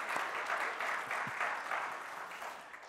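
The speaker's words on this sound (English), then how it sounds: "let's give another round of applause for them" A church congregation at a Baptist service claps for the newly baptized, a steady, moderately distant round of applause that slowly thins out.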